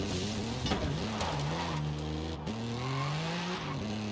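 A four-cylinder 90s JDM sports car engine hums and revs in Forza Horizon 5, its pitch climbing and dipping with throttle and shifts, steady and close.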